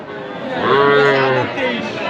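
A bull calf at a busy cattle market in Raniganj gives a single drawn-out moo lasting about a second, close and loud, with faint crowd chatter in the background.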